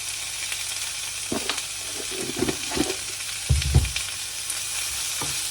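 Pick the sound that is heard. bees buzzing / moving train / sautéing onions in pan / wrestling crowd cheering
sautéing onions in pan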